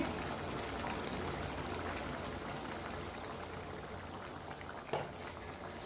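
Water at a steady boil in a cooking pot with eggplant pieces mixed in, a continuous close bubbling and hissing wash with one brief louder splash or clink near the end.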